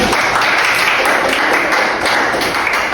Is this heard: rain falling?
no